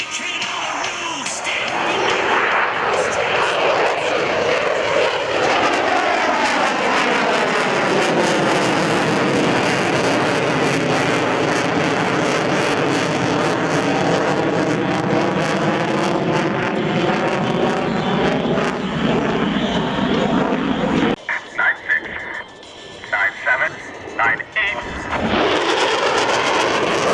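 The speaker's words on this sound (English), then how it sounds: "of the Navy's Super Hornet from VFA 122, the Eagles of Naval Air Station Lemoore in California" A Navy F/A-18 Super Hornet jet roars loudly and continuously past an airshow crowd, its pitch sweeping as it passes before the noise drops away briefly and then returns.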